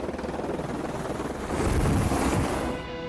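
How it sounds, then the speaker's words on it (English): A helicopter flies near an outdoor film location used for aerial 3D filming, its steady rotor roar and wind rush filling the scene and growing louder midway before easing off. "There's a chopper behind me, isn't there?"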